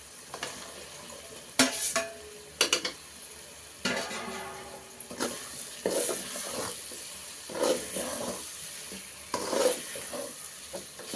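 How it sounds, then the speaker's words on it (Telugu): Boiled jackfruit seeds stirred into sizzling masala in a pan, with soft frying hiss beneath intermittent scraping and clinks of a spoon against the pan, close by and without talk. "ఇప్పుడు ముందుగానే ఉడకబెట్టి పెట్టుకొని ఉన్నానండి పనసకాయ ఇత్తనాలు ఇప్పుడు ఇది వేసేసుకున్నాం"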